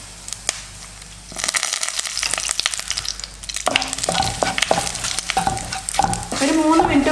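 Coriander powder sautéing in a pan for a coconut-free kadala curry, a steady sizzle and frying crackle with scraping stir strokes that grow busier toward the end.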